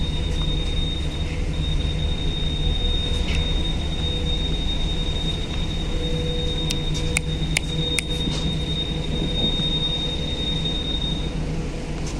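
Ferry ride at sea with a constant low engine rumble and drone, steady and loud throughout, plus a thin high whine and a few brief clicks partway through, with no talking.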